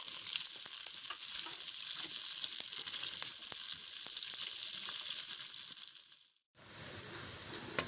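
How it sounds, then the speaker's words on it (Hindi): Onions frying in hot ghee for daal mash, a loud continuous sizzling hiss with scattered crackles, briefly dropping to near silence before the sizzle resumes. "तो यहाँ घी गर्म हो चुका है और इसके बाद हम डालेंगे इसमें प्याज और प्याज कर लेते हैं ब्राउन।"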